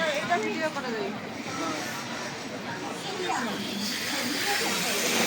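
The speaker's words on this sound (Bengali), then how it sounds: "ফ্রাই করা হচ্ছে অক্টোপাস ও বান বানানো হচ্ছে" Octopus frying at a street food stall, a steady sizzling hiss running throughout, with cooking clatter and nearby crowd chatter and voices mixed in.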